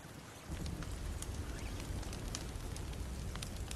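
A fire crackles and hisses steadily in The Walking Dead Season 2 video game, a dense, even rush of noise that swells in after a brief quieter start and holds without pause.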